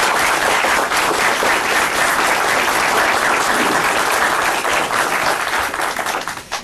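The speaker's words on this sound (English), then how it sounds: "let's just give a nice round of applause to these men that sit there." Sustained applause from an audience at a borough council reorganization meeting, honoring the volunteer fire department members; dense, steady clapping fills the room at full loudness, tapering slightly at the very end.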